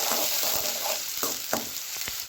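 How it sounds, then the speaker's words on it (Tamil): Urad dal, mustard seeds and chopped onion crackle and sizzle in a hot pan for a South Indian vegetable stir-fry, with a steady close hiss broken by several sharp spoon scrapes and pops. "இப்போ உளுந்தம்பருப்பு நல்லா பொரிஞ்சிருச்சு இப்போ இதில் கடுகு போட்டுடலாம்"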